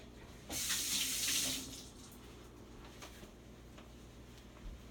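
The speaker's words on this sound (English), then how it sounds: "so I'll wash my hands and come and mix that again" Tap water gushes loudly into a sink for about a second during hand washing in a home kitchen while Trini curry chicken with aloo is cooked, then cuts off, leaving quiet room tone with faint distant bird calls.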